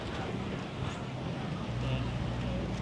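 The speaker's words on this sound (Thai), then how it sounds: "ลมมันแรงไปปวะ" Strong wind blows at Jomtien Beach, Pattaya, while a kite is flown, making a steady, dense roar that buffets the microphone throughout.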